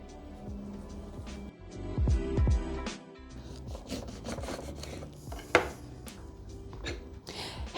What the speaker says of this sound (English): We want to mix that up so it dissolves nicely.